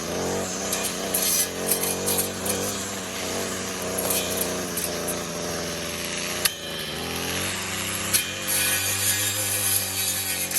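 Power tool cutting off a small birch tree during timber cleanup, a steady buzzing saw drone running continuously with brief sharp snaps and cracks as the stem gives way, close and loud with no talk.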